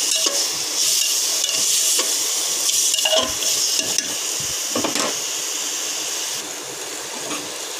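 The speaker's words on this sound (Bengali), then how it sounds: "সব কিছু দিয়ে ভালোভাবে নেড়ে একটু কষিয়ে নেব" Ingredients for khichuri are stirred and fried in a pan, giving a steady loud sizzling hiss broken by scraping stir strokes and a few clinks, with no voices.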